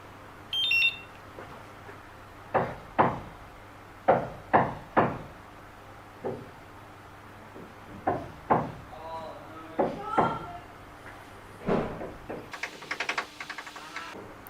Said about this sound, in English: As soon as I started to record, the hammering started, and now the drilling.